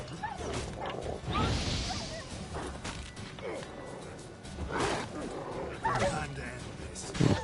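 A wild dog enemy in The Witcher 3: Wild Hunt growls and snarls amid combat, rough bursts rising and falling over several seconds, mixed with game effects and a voice talking over it.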